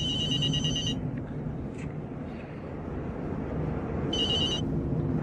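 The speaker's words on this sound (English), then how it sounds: "How the hell did you get my cell phone number, Shooter" A cell phone rings in an audiobook scene: two bursts of a bright electronic ringtone with a pause between them, set over a steady low rumble that suggests a moving car.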